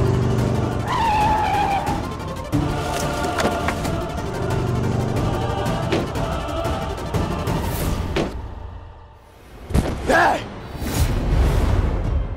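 Mr. Malik's car arrives with a sharp tire skid and squeal over engine noise, followed by loud dramatic bursts and impacts, close and intense, with voices heard in between.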